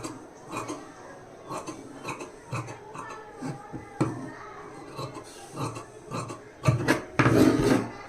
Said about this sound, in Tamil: பாருங்கள், நம்ம லைனிங்கில் வந்து கட் பண்ணி எடுத்துட்டோம்